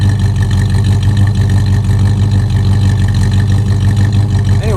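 An old Chevy V8 with about 175,000 miles idles loudly and close by after its idle has been backed off, a steady low rumble with an even, slightly lumpy pulse and no talking over it.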